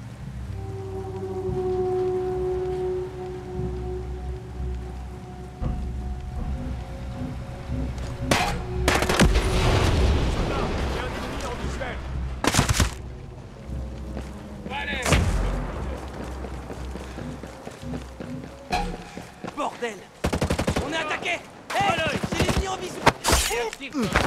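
Gunfire in Ghost Recon Breakpoint comes in sharp, loud bursts and single shots scattered over tense ambient music and background rumble, with the shots growing denser and more rapid toward the end.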